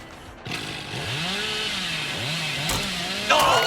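A Hillbilly's chainsaw revs in the video game Dead by Daylight, a steady buzzing engine with swooping pitch rises and falls, ending in a louder, harsher burst near the finish.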